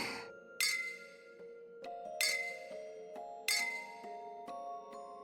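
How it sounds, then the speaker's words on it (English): Glass bottles clink in the video game Nikke: several bright, ringing taps, roughly evenly spaced, each decaying into a resonant tone against quiet background, with soft chimes between them. "Only the clinking of glass bottles fill the air."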